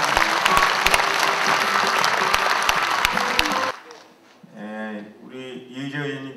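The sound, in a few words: applause welcoming a speaker at a campaign event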